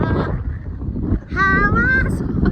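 Strong wind blows outdoors in a cold place where firewood is kept, producing continuous gusty rumbling buffeting the microphone, with a brief tonal whine partway through.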